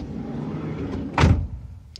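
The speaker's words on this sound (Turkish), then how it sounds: "Kapıyı kapatalım." A Volkswagen Caddy van's door is pulled shut in one solid, close thunk against a steady low rumble, with no talk during the closing.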